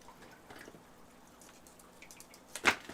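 Water dripping and splashing during an aquarium water change, a soft trickle building to one sharper splash near the end, close by with no talk.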